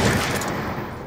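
Gunfire in Black Ops 2, a dense burst of shots at moderate loudness running steadily through the short moment with no pause.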